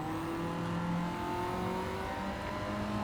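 A Gran Turismo 7 race car engine holding a high, steady drone with slowly shifting pitch during an Asia Cup race, loud and continuous with other cars faintly around.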